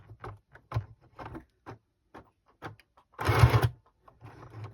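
A small sewing machine stitches through several layers of lace in short, halting bursts, with one longer and louder run near the end. It is heard close up in a quiet room.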